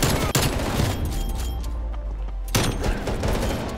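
Rapid automatic gunfire from a gun in a Call of Duty style shooter, a dense close burst of shots that stops briefly around the middle and then resumes, no talk.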